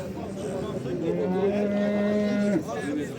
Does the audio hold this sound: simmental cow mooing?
yes